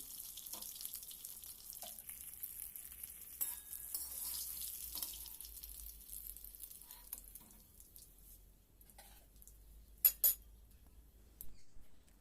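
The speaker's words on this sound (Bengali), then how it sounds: "মাছটা আমি এইরকমভাবে ভেজে নিই।" Fish frying in hot oil for a thin fish curry, a steady sizzle running throughout at moderate level, with a few sharp utensil clinks and scrapes near the end.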